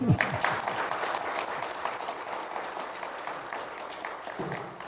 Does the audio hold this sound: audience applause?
yes